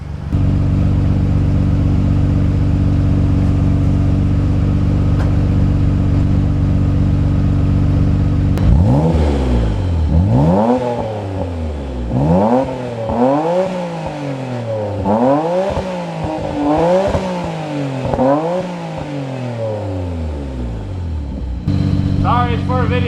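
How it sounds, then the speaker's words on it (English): A car fitted with a new Mega Fireball exhaust idles with a steady low drone, then revs repeatedly in rising and falling bursts before settling back to idle, loud and close. "give you some sounds of it, both idling and revving up"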